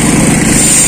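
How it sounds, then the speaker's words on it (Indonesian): A well drilling machine's engine runs loud and steady, a continuous close mechanical drone with no pauses. "Ini lagi pengeboran punya Bapak Sule"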